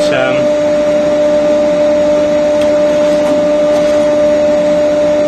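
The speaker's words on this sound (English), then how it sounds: "So dust extractor on." A dust extractor running beside a saw, a loud steady droning roar with a constant tonal whine, unbroken from start to finish after a brief onset.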